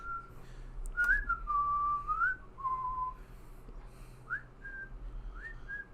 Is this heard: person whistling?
yes